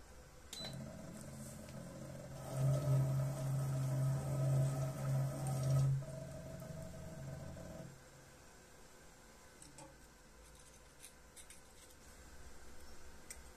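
A coil winding machine winds a bifilar feedback winding onto an output transformer bobbin for a UA 1176 Rev. A, giving a steady mechanical whir that swells for a few seconds and then falls back to quiet room hum.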